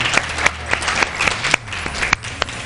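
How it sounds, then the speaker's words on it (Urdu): Audience applause for a guest on a Ramadan religious television transmission, a steady wash of clapping with a few sharper claps standing out, close and continuous throughout. "تو فرحان بھائی کے لیے بہت سی تالیاں"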